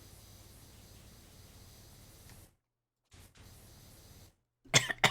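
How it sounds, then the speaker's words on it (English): A single close cough breaks out in two quick, harsh bursts at the very end, after faint steady hiss and brief dropouts to silence. "I coughed when I was."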